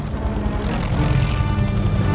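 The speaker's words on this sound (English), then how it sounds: "Oh no, it's another bloody helicopter." A video game helicopter drones steadily with a loud, continuous rotor rumble and whir, staying at an even level throughout, with no talking over it.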